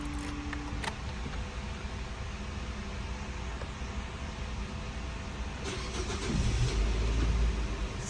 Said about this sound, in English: Now you can try to start the car.